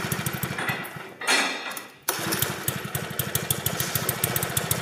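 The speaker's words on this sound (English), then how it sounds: "This is a four-stroke engine," A small four-stroke gas scooter engine runs with a rapid, regular chugging pulse, briefly drops into a smoother whir, then returns to its steady close-up putter.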